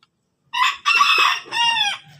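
Hen squawking and clucking as she is caught, a few loud, close, strained calls in quick succession lasting about two seconds.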